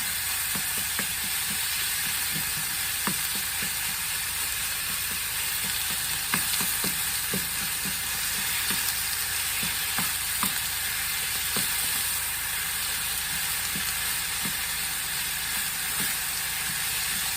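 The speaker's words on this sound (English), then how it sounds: "So now we just want to brown this up and make sure the onions get translucent." Turkey sausage and onions browning in a pan give a steady, close sizzle and hiss, with scattered clicks and taps of a utensil stirring and scraping throughout; no talking.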